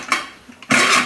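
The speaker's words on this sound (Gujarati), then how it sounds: "કુકરનું ઢાંકણું બંધ કરી દેવું" A pressure cooker lid is closed on a gas stove in a home kitchen while daal is being cooked: a short metallic clank, a faint scrape, then a louder sustained metal rattle as the lid seats, close up.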